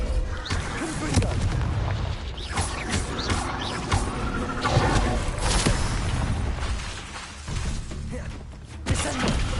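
Repeated blasting-spell explosions from the Hogwarts Legacy video game, with booming bursts and crackling impacts that follow one another in a dense, chaotic barrage of combat sounds.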